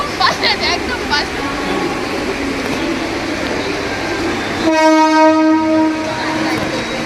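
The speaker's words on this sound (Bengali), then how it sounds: "এই যে আমার ট্রেন" A train at a station rumbles and clatters nearby, then its horn blasts loudly for about two seconds near the end, with some people's voices in the background.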